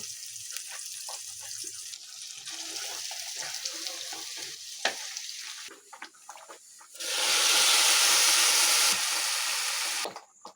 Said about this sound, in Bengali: খিচুড়িটা বাগার দিব পেঁয়াজ রসুন আর শুকনো মরিচ দিয়ে দিয়ে দেবো